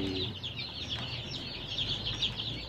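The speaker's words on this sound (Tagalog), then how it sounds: "ayan yung mga sisiw" Day-old chicks in a brooder peep continuously in a dense, high-pitched chorus close by, steady for the whole stretch with no talking.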